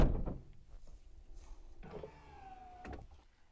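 A camper van's retractable step at the driver's side door deploys with a short electric motor whine and mechanical clunks, quiet and close, with a thud at the end.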